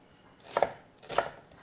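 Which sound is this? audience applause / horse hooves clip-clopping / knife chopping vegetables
knife chopping vegetables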